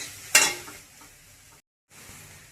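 Ginger and garlic frying in hot oil as a spoon stirs them in the pan: one sharp scraping burst at the start, then a soft, steady sizzle with a brief silent break.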